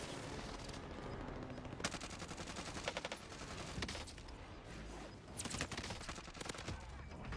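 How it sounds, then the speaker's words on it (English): Gunfire in a multiplayer shooter video game comes as fairly faint rapid bursts of automatic shots, repeated several times over a steady background of game noise. "Are you shooting me?"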